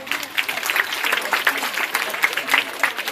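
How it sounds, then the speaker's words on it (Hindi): Applause from a school audience at a Grandparents' Day celebration, a dense, steady patter of many hands clapping at mid distance, with some voices mixed in. "जोरदार तालियों से स्वागत कीजिए इस ग्रैंड परफॉर्मेंस का।"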